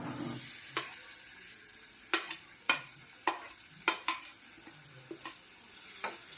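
Onion and tomato sauté in a little hot oil for misal pav, with a series of sharp spatula scrapes and clacks against the pan over a quiet sizzle, spaced unevenly and heard close.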